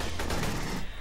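Rapid automatic gunfire from the sci-fi shooter Aliens: Colonial Marines, a dense, loud burst of overlapping shots filling the whole moment before trailing off slightly at the end.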